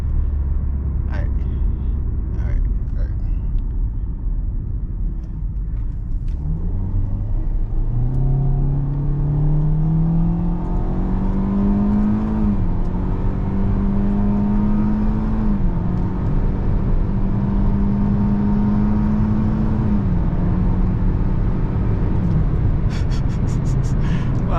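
A car drives along rural backroads, its engine rumbling steadily from inside the cabin, then revving and rising through gears as it accelerates, with shifts audible as dips in pitch and continuous road noise underneath.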